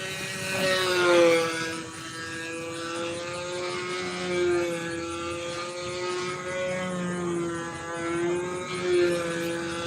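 A small model airplane engine droning steadily as it flies at a contest, a sustained buzzing tone that rises and falls in pitch as the plane passes, heard from a distance with some outdoor background noise.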